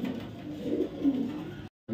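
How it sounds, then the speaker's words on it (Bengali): Female racing pigeon softly cooing up close, a low, throaty, rolling murmur that continues for nearly two seconds before a brief silence. "BRPOA ক্লাবের একটা ফিমেল কবুতর, একটা রেসার ফিমেল কবুতর।"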